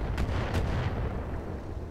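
Mortar rounds fire in the Roguetech mech video game as two quick, moderately loud thumps a quarter second apart, followed by a dull, rumbling battlefield wash with no talk.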